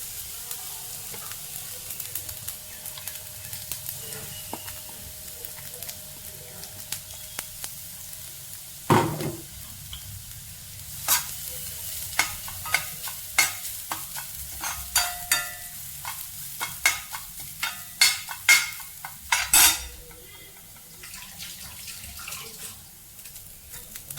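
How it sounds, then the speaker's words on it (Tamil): Grated coconut stirred and frying in ghee in a kadai for avul laddu, a faint steady sizzle broken by repeated clinks and scrapes of a spoon against the pan, with no talking. "இதே கடாயில் இதே நெய்யில் நம்ம எடுத்தோட தேங்காய் அதை சேர்த்துக்கலாம்."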